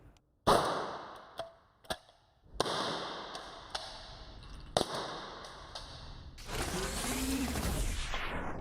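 A less-lethal 40mm launcher fires a reusable training round outdoors, with a few sharp, close mechanical clacks and bangs spread over several seconds, followed by a stretch of steady broadband rushing noise.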